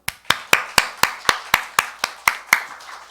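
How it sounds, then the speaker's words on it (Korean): Rhythmic unison clapping from a church congregation during a Sunday morning service, about a dozen even, sharp claps in a steady beat, fairly close and loud with no talking. "우리 하나님께 영광의 박수."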